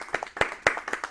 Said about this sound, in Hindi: तो एक बार अंश के लिए जोरदार तालियां